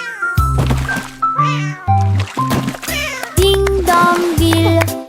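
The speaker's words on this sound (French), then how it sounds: "S'écria le chat" A cartoon cat cries out in a French nursery rhyme, making a run of loud, close, drawn-out meows and yowls in quick succession, with musical tones under them.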